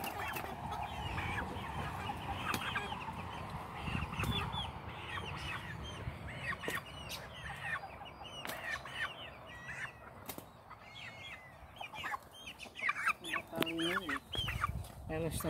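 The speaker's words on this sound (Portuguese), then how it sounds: "Olha aí as galinhas." Chickens in a backyard with pig pens, repeated clucks and calls coming close and scattered over a low rustling background, with bursts becoming louder toward the end.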